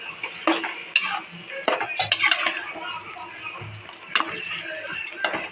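A utensil scrapes and clinks around a pot in repeated stirring strokes while mixing masala for chicken curry, with a few sharper knocks against the metal, close up.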